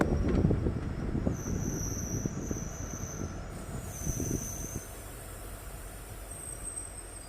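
Mysore–Yesvantpur Express pulling into Kallur Yadahalli station, a low rumbling clatter that fades out while high, thin wheel squeals ring out in long bursts, moderately quiet, with no voices.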